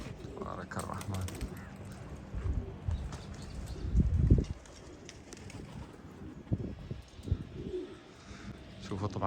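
A flock of pigeons flaps and stirs around a loft as most of the birds take flight, with wing claps and rustling bursts, one louder flurry midway, soft cooing underneath, and someone talking throughout.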